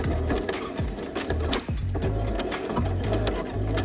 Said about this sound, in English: So let's go ahead and stitch all the way across this hem.